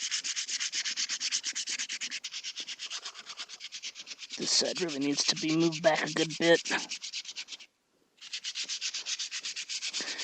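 A plastic melee prop's edge is sanded back toward a pencil line, giving steady, rapid rasping strokes close by. Someone talks briefly partway through, and the sanding stops for a moment before resuming.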